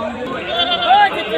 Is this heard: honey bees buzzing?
no